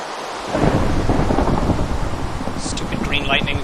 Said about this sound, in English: Green lightning. It's always so close to me. I don't like it.